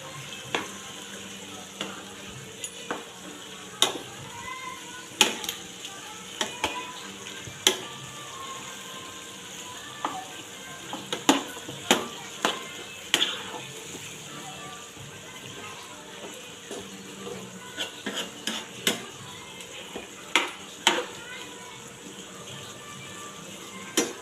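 Igado in tomato sauce sizzles softly in a pan while a utensil is stirred through it, sharp scraping clicks against the metal repeating irregularly over a steady low frying hiss.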